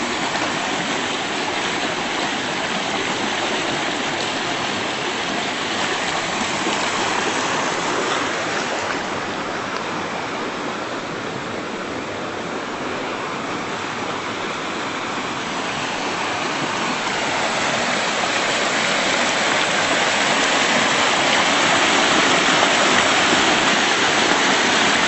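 A swollen creek roars steadily near a bridge, its water rushing so high it nearly lifts the span, a loud broadband wash that holds constant throughout with no voices.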